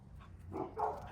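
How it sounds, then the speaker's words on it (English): A pet dog makes soft whimpering, whining sounds close by in a quiet indoor home, two brief rising yelps standing out over low background hum. "I'm gonna see if I can drag this dog inside"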